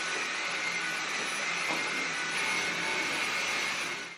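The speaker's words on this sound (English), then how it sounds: "So I just need to grab the hoover," A hoover vacuum cleaner runs steadily and loudly throughout, cleaning up flocked artificial snow mess during Christmas decorating, its broad whooshing drone constant and close with no talking.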